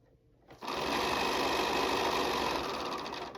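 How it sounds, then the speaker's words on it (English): A sewing machine starts and runs at a steady fast hum, chain stitching charm-pack quilt pieces together one after another, close and continuous with no talking. "just feed them in, chain stitch them right together"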